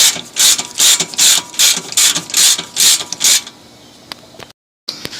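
Ratchet wrench loosening a size 14 bolt while lowering an Abarth on Neuspeed Neu-F springs, a close, loud burst of about eight rapid clicking strokes, then quiet.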